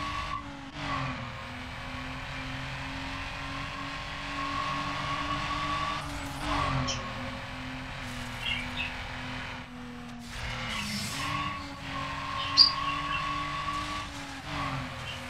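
Race car engine in Need for Speed Underground, a sustained whining drone with gear-change dips, rising revs and several short tire-skid squeals, loud and steady with no voices.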